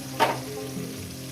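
Onion and potato fry together in a pan, a steady close sizzle with a short stirring scrape near the start.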